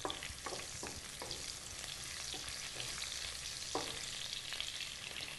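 Chopped green chilli pieces sizzle in hot oil with cumin seeds in a pan while a spoon stirs them, giving a steady close frying hiss with scattered scraping taps, for a Telugu fish pulusu.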